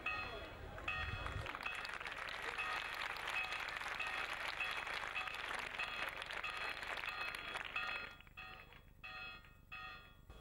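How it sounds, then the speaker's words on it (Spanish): Street crowd at a Holy Week procession in Salamanca applauds an image of Our Lady of Sorrows as it comes out, with sustained dense clapping and a steady tone running beneath it. The clapping thins near the end. "Esos aplausos para Nuestra Señora de los Dolores, que ya está en la calle."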